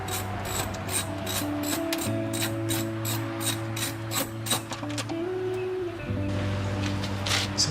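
A ratchet wrench takes off the 7/16 bolts holding a Humvee's tail light covers, its rapid even clicking running close and steady with a low mechanical hum beneath and no talk.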